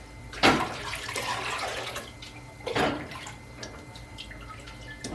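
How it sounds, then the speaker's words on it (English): Homemade apple cider vinegar stirred in its container before jar filling: two louder sloshing swirls with steady liquid churning between them, close and fairly loud with no talking. "now I am just going to keep the apple cider vinegar mixed up"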